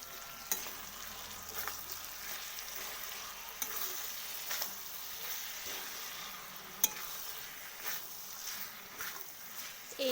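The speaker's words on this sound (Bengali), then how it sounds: "দেখুন এদিকে চিকেনের রান্না হচ্ছে আমার" Chicken 65 fries in a pan in a home kitchen, giving a steady, moderately loud sizzle with a few sharp clicks and scrapes over ten seconds, and no one speaks.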